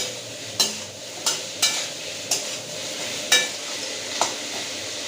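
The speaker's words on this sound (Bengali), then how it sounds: "পেঁয়াজটাকে আমি এইভাবে ভেজে একটু মিক্সিতে গুঁড়িয়ে নেব।" Onions frying in a pan over medium-low heat, a soft steady sizzle broken by about seven distinct scraping strokes of a spatula at uneven intervals, close and clear with no voices.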